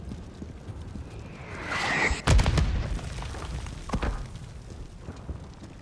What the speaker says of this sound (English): You gotta stop those mortars.